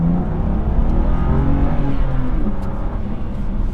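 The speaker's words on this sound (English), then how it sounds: "That was the second gear pull into third with the valves closed" A BMW M2 Competition with a Remus exhaust, valves closed, pulls hard in second gear toward third, a loud, close, steady engine roar with no talk over it.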